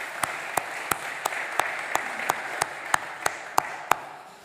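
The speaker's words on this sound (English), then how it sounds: "I think you should start with a sort of applause for yourselves." A church congregation claps after a budget presentation: a soft wash of applause with distinct, evenly spaced loud claps landing about three times a second, then tapering off.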